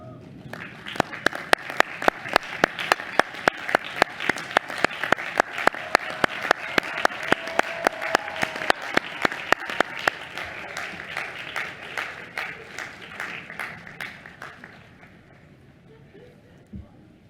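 Graduates and guests at an academy graduation ceremony applaud, a steady wash of many hands clapping that swells and then gradually fades. Sharp rhythmic claps from a few nearby people stand out on top, and talk mixes in underneath.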